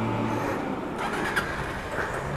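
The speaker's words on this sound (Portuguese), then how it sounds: "Deixa eu esperar o caminhão passar." A truck passes on a road beside a motorcycle owner's workshop, a steady broadband rumble of engine and tires holding at moderate loudness throughout, with no talk.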